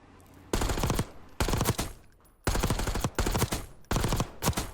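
An assault rifle in Black Ops 6 fires in four short, loud, controlled bursts of rapid shots, each separated by a brief near-silent pause.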